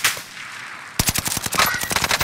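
A submachine gun in a Caldera battle royale game fires a rapid, loud burst of shots after a short pause, the rounds crackling close together.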